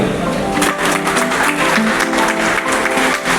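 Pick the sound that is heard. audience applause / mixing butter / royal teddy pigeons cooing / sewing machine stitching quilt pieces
audience applause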